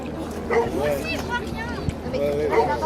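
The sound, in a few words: water rescue dog Rio barking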